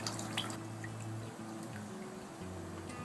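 Water drips and trickles from a squeezed screen of freshly harvested spirulina grown at home, faint close wet patters over a steady low hum, with no talk.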